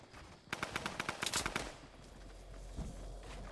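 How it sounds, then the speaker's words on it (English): A rapid burst of SMG fire in the Fortnite battle royale game, about a dozen sharp close shots in quick succession, followed by lower rumbling game sounds. "I'm going to execute this guy with an SMG"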